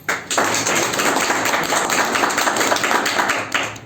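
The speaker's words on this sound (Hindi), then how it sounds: "सर के लिए अच्छी सी तालियां बजा दें।" A crowd at a sales presentation claps steadily for several seconds, a dense roomful of applause that swells quickly and then tapers off toward the end.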